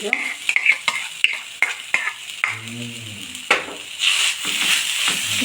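Spoon scraping and stirring through boiled potato and vegetable mixture for veg cutlets in a metal bowl, irregular clinks and scrapes, then a brief sustained tone and a rising sizzling hiss near the end.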